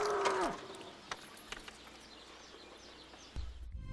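A bull gives a single loud, drawn-out moo in a scene from the 1996 comedy Kingpin. The call fades quickly, followed by a few quiet clicks and faint chirps, then a low rumble at the end.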